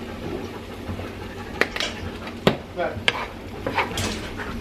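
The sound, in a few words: cube steak being stirred and sauteed in pan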